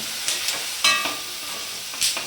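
Tomato paste for a paneer dish sizzles and fries in a pan, with a steady hiss broken by a few sharp clanks and scrapes of stirring, close and fairly loud, with no talking.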